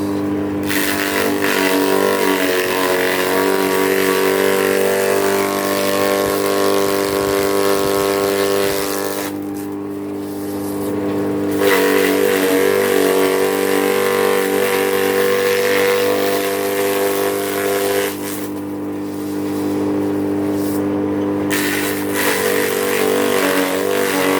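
An electric dynamo motor drives a forage chopper machine on a sheep farm, giving a loud, steady running hum with rich harmonic drone. It dips briefly twice, then returns to full level.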